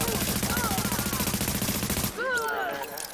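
A rapid, rhythmic burst of automatic gunfire in the video game The Division rattles on steadily, then cuts off abruptly, and a voice follows.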